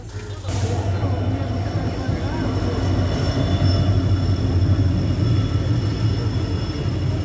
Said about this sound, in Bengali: এই যে ট্রেন এখন আমাদের বালুরঘাটে যাচ্ছে